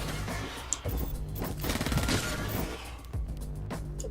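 Sci-fi gunfire from shooting enemies in the space action game Seraph: rapid bursts of shots with impacts and crashes layered over a steady background soundtrack, moderately loud.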